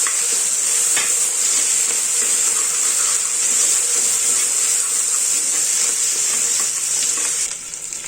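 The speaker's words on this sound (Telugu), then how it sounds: "అల్లం వెల్లుల్లి పేస్ట్ వేగింది." Ginger, garlic and coriander paste fries with onions in a pan, giving a steady, loud, continuous sizzle with faint stirring scrapes throughout.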